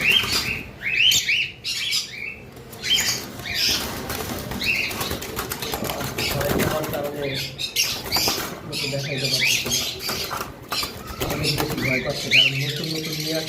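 Many cockatiels at a bird farm chirp and whistle in a close, busy chorus, with bursts of wing flapping and a person talking now and then.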